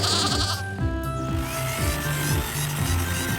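Sheep bleat repeatedly in loud, close, wavering calls, one after another, over a faint mechanical whine in the background.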